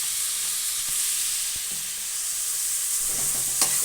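Chilli powder is stirred into masala frying in a pan for country-chicken biryani, giving a steady soft sizzle with scraping stirs and a few sharp utensil clicks, close and without talk.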